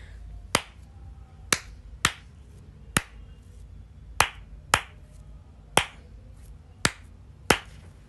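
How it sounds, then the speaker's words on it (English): A teacher claps hands for a children's counting exercise: nine sharp, separate claps close by, spaced unevenly in small groups with short pauses between them in an otherwise quiet room. "I will clap for some time and you have to listen to my claps carefully."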